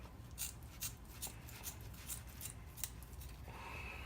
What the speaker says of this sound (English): whenever you see a big piece of fat like this, cut it off